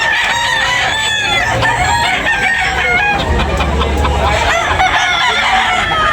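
Roosters crow and cluck nearby in a busy, overlapping chorus at a poultry sale, loud and continuous with fowl chatter throughout.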